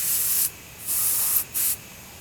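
Three short bursts of hissing paint spray from an airbrush onto sheet metal, steady and close, separated by brief quiet gaps.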